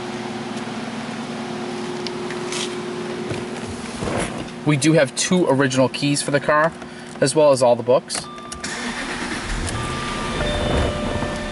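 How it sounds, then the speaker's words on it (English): A 2006 Jaguar Vanden Plas XJ8 idles with a steady low engine hum throughout, while someone speaks over it for much of the time. "I'm gonna actually start the vehicle up just so you can hear the car run."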